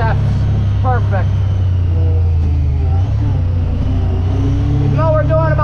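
A Honda Pioneer 1000-6 side-by-side engine revs up and shifts under a heavy load, a steady loud rumble that rises and falls, with a voice talking over it throughout.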